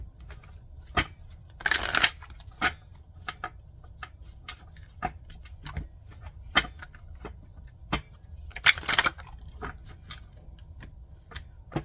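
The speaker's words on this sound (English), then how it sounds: "then I'm gonna shuffle the deck, lay out the cards" Cards are shuffled in two riffled bursts, separated by scattered soft taps and clicks of handling a deck, quiet and close.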